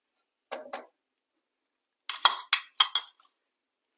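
Ground paste being stirred into a rice mixture in a pot for Malabar-style fried pathiri: a pair of short clinks, a pause, then four quicker metallic scrapes and taps close by, with no talking.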